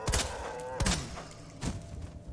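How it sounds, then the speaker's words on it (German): Gunfire in the Resident Evil 2 Remake game: three sharp, loud shots crack out within about two seconds, each with a short ringing tail, and no voice is heard. "Ich habe gerade 4 Schüsse daneben geklatscht."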